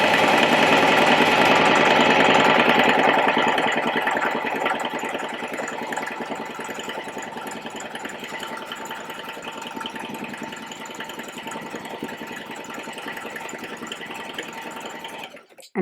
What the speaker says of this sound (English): So again, sewing onto the right side of the fabric.